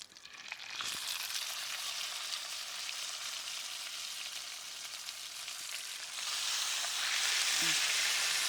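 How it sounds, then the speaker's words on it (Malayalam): Chicken pieces for masala shawaya fry in a pan with a steady, dense sizzle and crackle that swells louder toward the end, close by, with no talking. "ബാക്കിയുള്ള 2 കഷ്ണം കൂടി ഇതേപോലെ നമുക്ക് വേവിച്ച് മൊരിച്ചെടുക്കാം."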